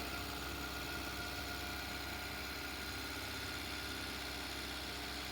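A 2007 Maruti Suzuki Wagon R VXi engine idles with a steady, low drone without a break, a constant rumble with faint vibration and no voices.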